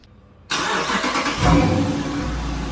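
A V8 car engine with mufflers closed cranks and fires up, then settles into a deep, steady rumble with a brief rev, close by and loud.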